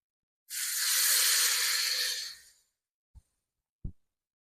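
Water poured into a hot pan of spiced potatoes gives a loud, sharp sizzling hiss that rises at once, holds for about two seconds and fades, followed by two brief clunks.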